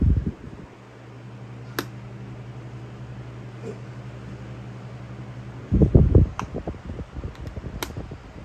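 A Pelonis 10-inch oscillating desk fan runs with a soft, steady motor hum and airy whoosh at a low, even level, followed by louder gusty rustling near the end, with no talking.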